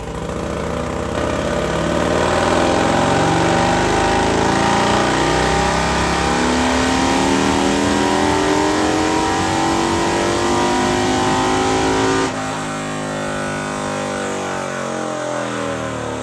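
A loud 2022 Harley-Davidson Road Glide 135-inch engine with a D&D Big Bore 2-into-1 exhaust revs up and holds at high pitch, rising steadily, then drops abruptly to a rumbling idle; close and sustained.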